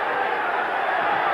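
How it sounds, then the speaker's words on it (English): Boxing crowd at the Carlos Monzón versus Jean Claude Boutier fight, a dense, steady roar of cheering that fills the arena throughout, loud and continuous with no clear breaks. "The crowd worried now, cheering for their man"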